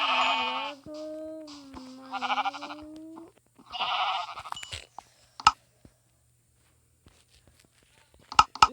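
Sheep in a survival video game bleat in several short, wavering calls alongside a droning tone, followed by sharp hit and footstep sounds, with a brief spoken word.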